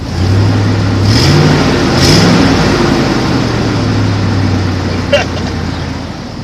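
A 1997 Ford F-150 pickup's engine revs several times, rising and falling in pitch with steady loud low rumble throughout, close by and alone.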